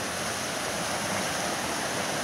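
Steady broadband rush of a waterfall at Peshchersky falls in Altai Krai, viewed from a bridge above, with mist rising off warm water; continuous, fairly loud roar with no breaks and no voices.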